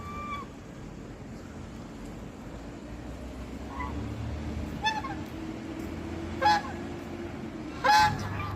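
Geese honk several times, mostly in short separate calls spaced a second or two apart, fairly close, over a constant low background drone.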